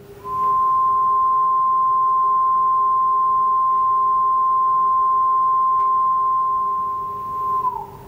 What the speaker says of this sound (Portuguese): este é um som do Rhinolophus lobatus